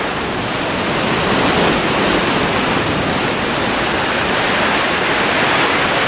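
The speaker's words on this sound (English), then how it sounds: "And as you can see, the water is really rolling today." Water at a natural dam rushes hard through several drainage ditches beneath a bridge, a steady, loud, broadband roar with no pauses and nothing else heard.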